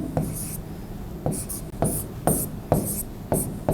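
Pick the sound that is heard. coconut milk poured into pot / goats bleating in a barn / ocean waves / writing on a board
writing on a board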